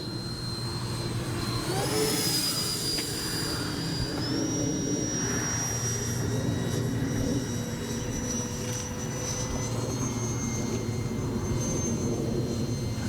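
A 3D-printed RC delta-wing fighter jet (64 mm fan) flies past at high rates, its steady whine rising and shifting in pitch as it passes, loud and continuous with no talk.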